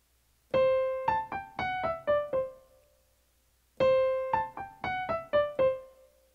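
Solo piano plays another phrase from the first movement of a Mozart sonata: two bright, evenly paced groups of about six notes, each ending in a lingering tone, with a silent gap between them.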